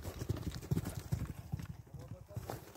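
A fast horse runs over open riding ground in Zhylandy, its hooves pounding in a quick, steady clip-clop close by, with voices murmuring underneath.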